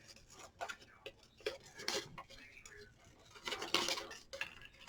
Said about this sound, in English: Now we're going to cut our 1 3/4 inch circle out.